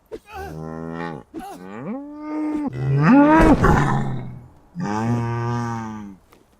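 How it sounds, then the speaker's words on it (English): A farm cow in the survival video game Into The Dead: Our Darkest Days moos loudly and close in a series of long, drawn-out calls with brief pauses, alone without talking. "cow slaughtering time number 1."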